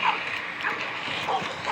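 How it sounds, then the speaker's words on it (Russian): A dog whimpers and yips in short, thin bursts, fairly close, over a faint background, with a possible voice in the mix. "это вот собака такая"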